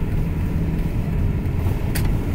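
A car passes near an RV resort in Casa Grande, Arizona, heard as a steady, loud road rumble with engine drone throughout, with no voices.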